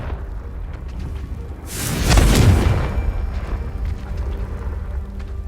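A Confringo blasting spell goes off in the Hogwarts Legacy video game, a single loud booming blast with a rushing whoosh that swells and fades over about a second, over a low ambient hum.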